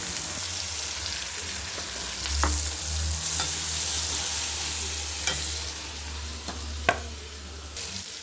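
A tempering of mustard seeds, garlic, onion and curry leaves sizzles in hot oil while being stirred, a continuous close crackle broken by sharp scraping clicks of the spoon against the pan, with no voices.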